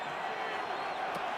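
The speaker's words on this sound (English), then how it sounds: "This crowd into it now as we get to 3rd down." A stadium crowd in the Madden NFL 26 video game, Baltimore Ravens against Minnesota Vikings, roars as a steady, even wash of cheering noise heading into third down.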